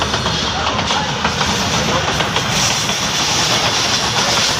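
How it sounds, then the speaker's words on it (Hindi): A train approaches on nearby railway tracks with a steady, fairly loud rumble and hiss and faint rhythmic clatter that runs throughout, while people talk over it. "यार ट्रेन भी आ रही"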